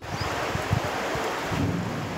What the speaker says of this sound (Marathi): पहा मित्रांनो, ह्या पाऊस